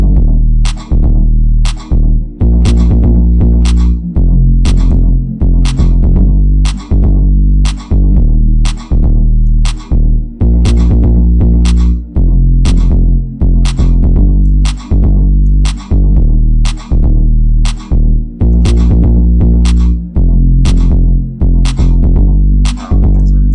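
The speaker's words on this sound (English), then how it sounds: "sidechain the 808 to the pad, so the pad ducks out of the way when the 808 hits" A loud electronic pad sidechained to an 808 through a compressor pumps in a steady rhythm, ducking sharply on each of the many evenly spaced bass hits, with no voices.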